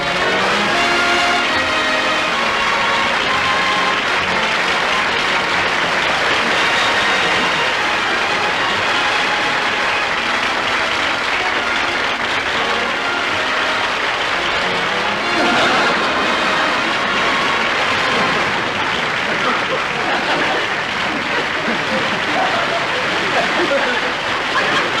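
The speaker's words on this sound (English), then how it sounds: "Look at him milk that applause." Long, continuous applause from a television studio audience greeting comedian Jack Benny, a thick sustained roar of clapping that holds steady for the whole stretch with crowd noise mixed in.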